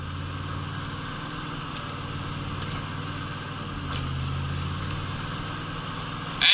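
A car engine holds a steady hum around 3,000 RPM in first gear, close and continuous with a slight swell midway and a sharp burst at the very end, no voices.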